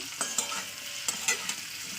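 Green chilli and garlic fry in oil, a faint close sizzle punctuated by several quick scraping stirs in uneven rhythm.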